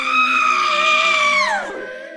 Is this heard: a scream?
yes